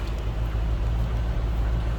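A 1988 Chevrolet Corvette Convertible engine idles steadily with a low, even rumble, heard close from the rear, continuous, with no talking.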